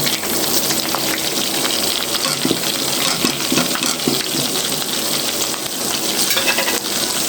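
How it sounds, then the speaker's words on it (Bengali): Spices hitting a hot, sizzling pan while pangas fish curry is cooked, giving a loud, continuous frying hiss and crackle with faint stirring scrapes and no talking. "এখন আমরা দিয়ে দেব আমাদের সব মশলাগুলো।"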